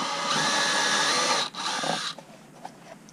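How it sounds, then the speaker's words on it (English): Power drill enlarging holes for a gauge installation in a Mazdaspeed 6, a high-pitched steady whine for about two seconds with a brief dip, then spinning down into quiet scraping and faint clicks. "let's drill these a little bigger"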